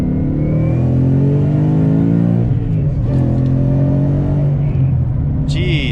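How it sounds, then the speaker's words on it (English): A supercharged Ford 5.0 V8 car engine running loud and close, revving with rising and falling pitch, holding a steady drone throughout. "And turn on the car"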